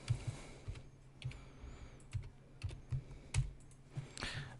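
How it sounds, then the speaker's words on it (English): Quiet typing on a computer keyboard while entering values into drawing software, a handful of separate soft key clicks in an uneven rhythm, nearby and with no speech. "I'm going to type D for diameter, hit enter, and then type"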